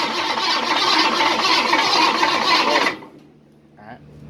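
A 1953 Ford F100 pickup with a 302 V8 cranks and catches. It roars loudly and steadily for about three seconds, then cuts out abruptly, leaving near-quiet with a brief faint voice.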